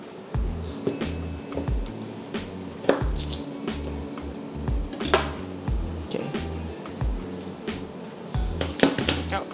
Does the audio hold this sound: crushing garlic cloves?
yes